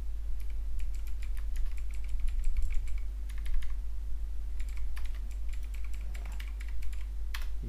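Keys clatter on a computer keyboard as an email ID is typed in, rapid bursts of clicks with short pauses between them over a steady low electrical hum.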